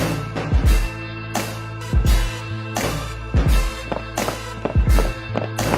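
Footsteps performed with real props in a Foley studio, about seven heavy, solid thuds spaced at a slow, uneven walking pace, close and loud, with no talk.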